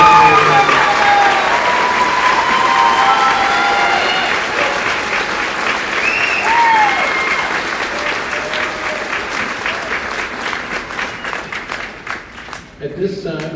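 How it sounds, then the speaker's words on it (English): Crowd at a high school graduation ceremony applauding loudly and continuously, the clapping thinning and trailing off toward the end. "Another round of applause."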